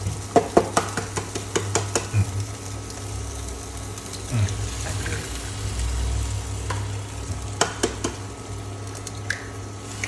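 Egg and bologna sausage omelette cooking in a pan with no oil, giving a steady low sizzle while a utensil stirs and taps against the pan in repeated sharp clicks.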